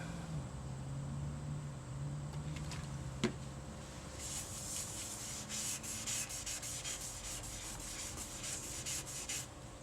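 Sanding sealer of thinned shellac is rubbed onto a turned cypress turkey pot call, a soft, steady scrubbing and swishing over a low machine hum, with a brief faster burst of rubbing near the end.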